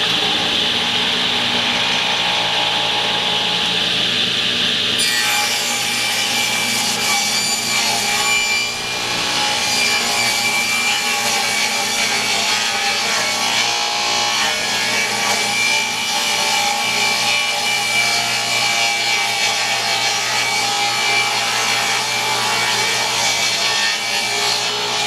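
Raw wood is pushed freehand through a power saw in a long, continuous, loud rasping cut. A softer whine sounds first, then the cutting grinds on for about twenty seconds without talk.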